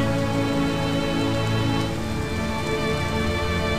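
Steady rain in the video game I Remember the Rain, a dense, continuous patter of drops on a surface, loud and unbroken throughout with no voices.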